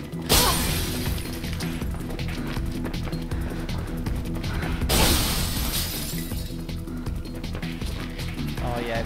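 Glass panes shattering in the video game Mirror's Edge: a loud crash near the start and another burst midway, with the broken glass crackling in between and a steady game soundtrack underneath.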